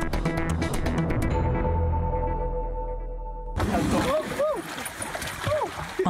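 A wooden dugout canoe carved from a tree trunk moves on the Ivindo River in Gabon, with water splashing and swirling close by after a sustained tonal opening.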